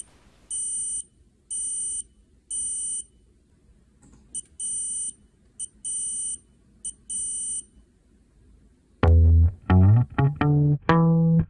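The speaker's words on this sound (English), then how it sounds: "we'll connect a buzzer to our Pico and we'll make it beep in various patterns." An active buzzer wired to a Raspberry Pi Pico on a breadboard emits loud, shrill electronic beeps in repeating on-off patterns with short gaps, followed near the end by a few lower, louder tonal blips.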